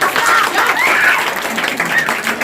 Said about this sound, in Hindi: तालियां हो जानी चाहिए सर